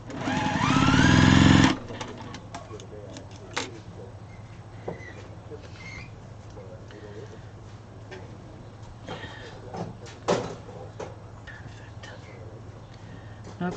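A sewing machine stitches fabric scraps together in a loud, fast whirring run for under two seconds, then stops; quiet handling clicks and faint rustling follow.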